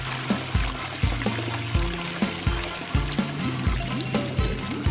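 Water pours in steady bursts into a LEGO Bikini Bottom fish tank, a loud, close gurgling stream with rhythmic glugs about twice a second.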